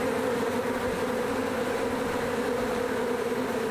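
A large agitated honeybee colony swarms in attack, a dense, steady buzzing drone that fills the air loudly and continuously with no voices.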